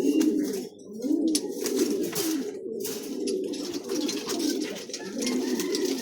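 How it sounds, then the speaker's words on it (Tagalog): A flock of Taiwan imported pigeons coos continuously up close, soft overlapping throaty calls with faint shuffling and chirps mixed in. "Andito na yung ating mga Taiwan bird oh"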